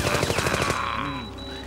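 Rapid automatic gunfire from The Tick TV series, a fast burst of close, loud shots in the first half that cuts off into a ringing, fading tail.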